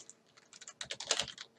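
Fast keystrokes clatter on a computer keyboard, a quick uneven burst of close, light taps that grows denser and louder toward the end.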